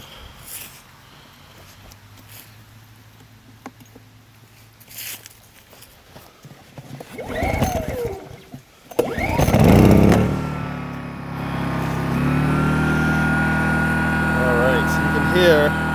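A WEN 1250-watt inverter generator is pulled to start with a few rasping cord tugs and sputters, then catches and settles into a steady, fairly quiet engine hum, with someone talking beforehand.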